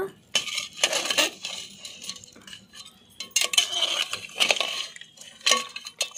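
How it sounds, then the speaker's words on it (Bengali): A spoon clatters and scrapes around a metal pot while fried onions are stirred into beef paya, with irregular clinks and bursts of scraping separated by brief quiet gaps, close and fairly clear. "একবার ভালো করে একটু নাড়াচাড়া করে নেব।"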